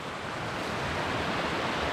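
Steady rushing water from the Delatite River at a trout fly-fishing spot in April, a continuous close broadband wash with no voices.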